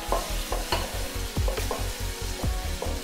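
Jackfruit pieces sizzle in a hot pan for payasam, with a steady rhythm of close stirring scrapes, roughly two or three strokes per second, and no talking.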